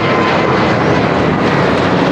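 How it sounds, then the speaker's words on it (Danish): Airplane on its descent to land at Doha airport, a steady loud broadband roar of engine and airflow filling the whole clip without a break. "Vores fly er i gang med at flyve nedad nu, så det kan lande herfra."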